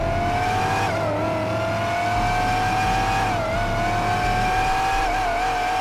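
Continuous loud, steady engine roar from a 2025 Chevrolet Corvette C8 ZR1 Yenko in a driving video game, its pitch dipping and rising slightly through gentle turns, with no talk.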